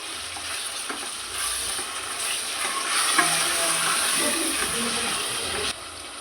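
Ground masala being stirred into corn biryani frying in a pan, a steady sizzle and hiss with soft scraping strokes of the spoon running throughout, close and moderately quiet.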